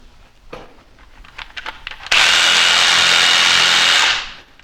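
A power tool revs up and bites loudly into a dead olive tree trunk, a steady harsh roar for about two seconds after a few light knocks, then winding down.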